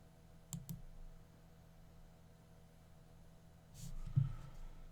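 Two faint mouse clicks in a quiet room, one early and one near the end, with a low steady hum underneath; a single click registering on a download button.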